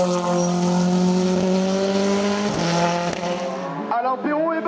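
A Simca CG Turbo race car at a hillclimb event howls past with a loud, sustained high engine note that drops in pitch, then revs and shifts as it moves away, with a commentator talking over it.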